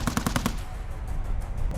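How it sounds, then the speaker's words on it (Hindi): Machine gun fire during a NATO military exercise: a short burst of about five rapid, loud cracks, then a rolling echo that lingers, with no voices. "गोलियों की तड़तड़ाहट"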